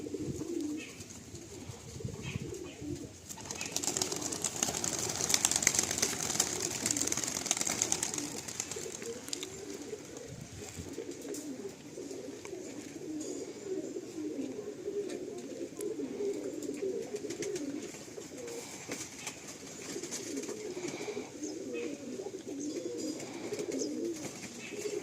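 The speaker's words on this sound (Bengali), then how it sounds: "পায়রাগুলো আস্তে আস্তে উপরে হাইট নিয়ে নিচ্ছে।" Pigeons at a racing-pigeon loft in summer coo continuously in low, rolling, overlapping calls for the whole stretch, fairly near, with light background noise and no talking.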